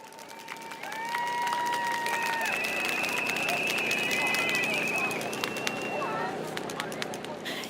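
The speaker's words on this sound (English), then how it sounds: "please give a warm round of applause to Ms." Election rally crowd at an outdoor political gathering applauding steadily for several seconds, a dense wash of clapping with a few cheers and whistles over it.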